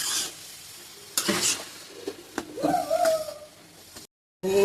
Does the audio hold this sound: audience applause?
no